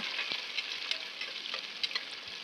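Onions and green chillies sizzle steadily in a pan for biryani, a bright continuous hiss broken by occasional scraping stirs of a spatula, close and alone.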